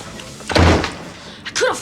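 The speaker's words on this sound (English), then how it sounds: "You want to close the door?" A door is pushed shut with one solid, close thud, followed by a brief quieter knock or creak a moment later.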